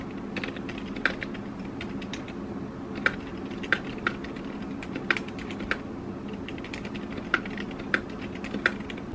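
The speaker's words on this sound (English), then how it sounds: "So enjoy some typing ASMR." Steady typing on a computer keyboard, close and fairly quiet, with soft clicks and a few sharper key strikes spread across the clip; no talking.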